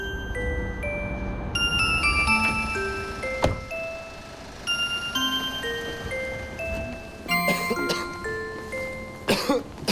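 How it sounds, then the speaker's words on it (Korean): A person with a cold coughs a few times, with sharp bursts standing out over steady background music; one cough comes early and a couple come near the end. "기침 소리가 심상치 않다."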